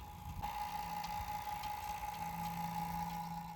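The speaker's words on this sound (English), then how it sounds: "We have a vacuum on the lines to suck it down and make sure everything's good before we release the coolant" Steady mechanical hum of a vacuum pump evacuating mini-split air conditioner refrigerant lines, a constant drone with a low mechanical rumble beneath, running continuously at moderate level without talk.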